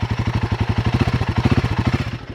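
A Royal Enfield Guerrilla 450 single-cylinder motorcycle engine revs under light throttle blips, a close, steady pulsing thump that swells slightly and then falls away at the end.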